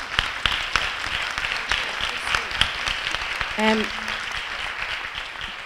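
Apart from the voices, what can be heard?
audience round of applause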